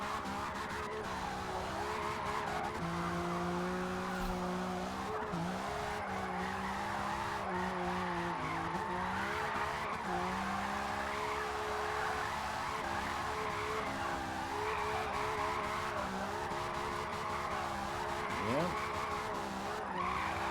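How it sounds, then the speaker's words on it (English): A drift car in a video game howls with a sustained engine tone and steady tire squeal, the pitch dipping and rising with small throttle blips through a long slide, loud and continuous. "I'm gonna give her some small blips of throttle through here, so keep the drift going."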